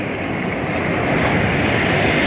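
Sea waves wash against a rocky shore as wind buffets the microphone, a loud continuous roar with no voices.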